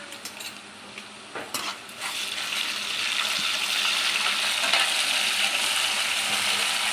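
Ginger garlic paste and onion frying in a pan for semiya tomato upma: a few spoon scrapes and taps at first, then a steadily swelling sizzle that stays close and continuous.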